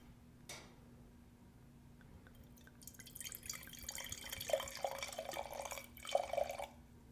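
Wine pours into a glass in a quiet room, a soft trickling splash building from about three seconds and running until near the end, close to the listener and faint.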